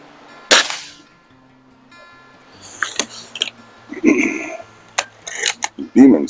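A Beeman C1 Carbine air rifle fires outdoors in a little wind, one sharp, loud crack early on, followed by softer clatter and someone talking.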